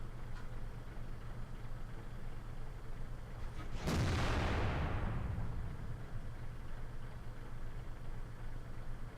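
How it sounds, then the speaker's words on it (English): An FV215b tank in World of Tanks fires its cannon once, a single heavy, booming blast that cracks out sharply and rumbles away over a couple of seconds above a low, steady engine drone. "I think we hit with that shot."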